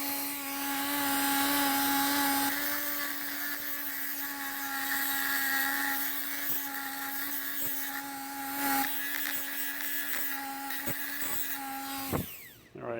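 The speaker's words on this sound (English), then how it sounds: "I'm going to take my Dremel tool and put a little notch right here" A Dremel rotary tool whines at a steady high pitch while notching metal on a Jeep XJ rear driveline part, close and continuous, with small shifts in load before it cuts off near the end.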